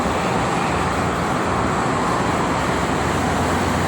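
Steady, dense roar of traffic on the Jakarta–Cikampek toll road, continuous road and engine noise filling the whole stretch at a constant loud level with no talk.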